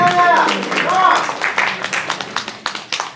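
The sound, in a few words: audience applause at a convention panel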